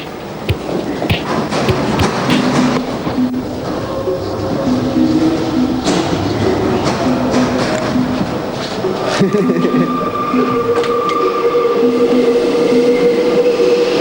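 A Paris metro train runs through the tunnel with a steady loud rumble, rattling wagons, screeching wheel tones and scattered metallic clicks filling the whole stretch, with no voices heard.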